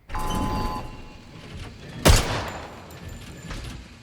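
A single sharp gunshot rings out at a shooting range in 007 First Light, a loud close crack standing out midway through quieter game ambience, with a faint softer shot later.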